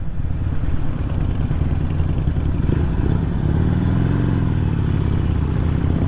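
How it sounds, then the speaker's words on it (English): A 2020 Harley-Davidson Iron 883 exhaust rumbles loud and close in a continuous throbbing drone during a ride, with a brief rising engine note midway. "the exhaust on the one that Greg is riding is crazy"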